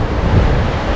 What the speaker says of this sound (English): as well as listening to the sound of the river